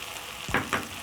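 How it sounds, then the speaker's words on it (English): Rice being stirred into beef in a cooking pot, with two quick close scrapes of a spoon over a low steady sizzle. "Then I'm going to stir my rice in"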